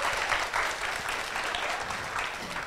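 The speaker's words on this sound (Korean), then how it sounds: "다시 한번 박수 부탁드립니다" Applause from the audience at a live podcast recording, a steady wash of many hands clapping together at moderate loudness, continuous throughout with no talk over it.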